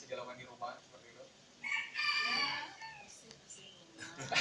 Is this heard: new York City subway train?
no